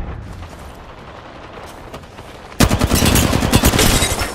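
Automatic gunfire in the third-person shooter Fuse arena mode. After a low rumbling lull, a loud, dense burst of rapid-fire shots breaks out and continues as a close, sustained volley with no speech.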